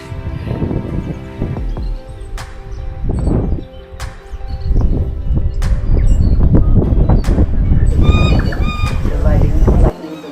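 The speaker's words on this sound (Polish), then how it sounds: "Tui to najbardziej rozśpiewany ptak Nowej Zelandii" Loud tui birds call in a jumble of odd honking, croaking and warbling notes, with clear tonal whistles near the end over a dense, rumbling background, in New Zealand.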